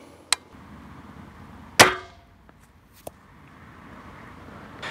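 A sharp twang-thump of a single shot from an inexpensive crossbow near 1.8 seconds, aimed at 125 meters, followed by fainter clicks and a thud, in a quiet outdoor setting.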